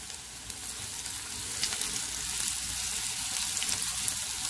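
Green chillies, finely chopped onion and ginger-garlic paste hit hot oil in a pan, giving a steady, moderately loud hissing sizzle that holds throughout, with a few soft scraping touches and no talk.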